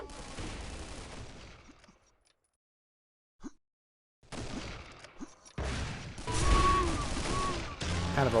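Rifle fire in the Cube 2: Sauerbraten first-person shooter during an eCTF tournament match, with scattered shots and game effects that drop to near silence midway, then return louder with a sharp burst and ongoing action.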